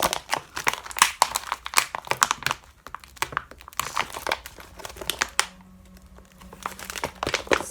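Soda can tab bag being folded by hand, the pull tabs and material giving bursts of close crinkling and rustling with brief clicky taps and quieter pauses between movements.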